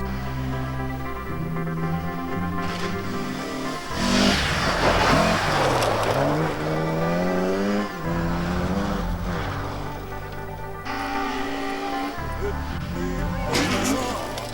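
Rally cars driven by Finnish competitors roar and rev through a stage, with engine surges, skidding and tire noise building and fading in loud, continuous passes, while voices talk over the action.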